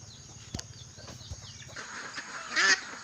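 Nearly three-month-old ducklings on a farm give soft peeping calls under low background noise, ending in a brief louder chorus of quacking chirps.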